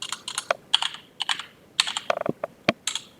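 A short command typed on a computer keyboard, a close burst of crisp key clicks in irregular clusters ending with a firmer keystroke, no voices.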